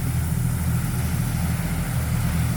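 A dump truck engine runs while the truck spreads crushed rock without a bulldozer pushing it, a steady, loud, low drone that holds nearly constant from start to finish.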